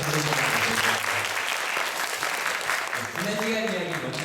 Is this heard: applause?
yes